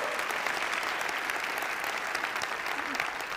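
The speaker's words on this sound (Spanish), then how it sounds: "damos un aplauso de agradecimiento a los maestros" An audience gives thanks to teachers with steady, dense applause that fills the room evenly from start to finish, a continuous wash of many hands clapping at once.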